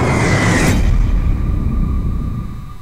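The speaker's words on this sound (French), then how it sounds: "c'est le missile nucléaire" A huge nuclear missile blast from the Call of Duty Black Ops 2 zombie map Nuketown erupts as a loud, close, full-band roar that rolls into a long, fading rumble, heard alone.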